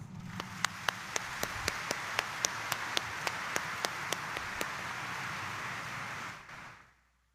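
Congregation clapping during a church homily, a steady broadband wash of applause with a regular series of sharp rhythmic claps or beats over it, holding for about six seconds before cutting off into near silence.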